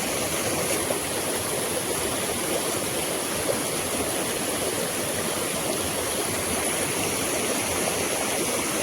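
River water rushing at night during village fishing, a loud, dense, continuous flow like a fast stream or small cascade, close by and steady with no voices.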